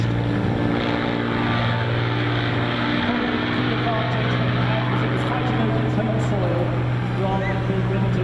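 Spitfire and Hurricane aircraft flying a Battle of Britain display at the Sunderland Airshow 2014 make a continuous, loud propeller-engine drone with a steady low hum, while a commentator talks over it.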